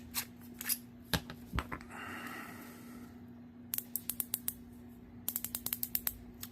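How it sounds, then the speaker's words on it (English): Turret dial on a Vortex Strike Eagle 1-8x24 LPVO rifle scope being turned, producing rapid close crisp clicks in quick bursts, with some handling rustle and a steady faint hum underneath. "Very audible clicks."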